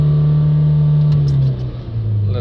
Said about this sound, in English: Now if we accelerate the vehicle up